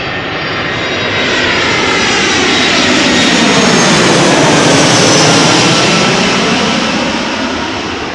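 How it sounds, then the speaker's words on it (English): A steady, loud roar from an airliner landing on runway 18 center at Amsterdam Schiphol, heard up close. The broad jet noise swells to a peak midway, with a faint sweeping tone, and nothing else is audible. "we are filming arrivals at runway 18 center at the moment"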